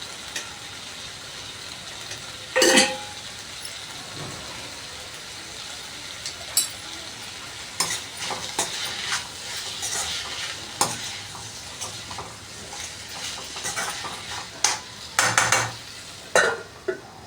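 Okra and potato pepper fry stirred in a pan, with a steady sizzle under repeated scraping and clinking strokes of a spoon against the metal, several sharp clatters standing out.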